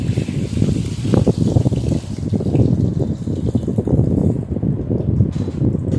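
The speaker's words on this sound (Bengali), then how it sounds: "তেলের মধ্যে নুন হলুদ দিয়ে ডিমগুলোকে লাল লাল করে ভেজে নিতে হবে।" Eggs frying in hot oil seasoned with salt and turmeric give a steady, dense sizzle and crackle that runs without a break, close and fairly loud, with no talking.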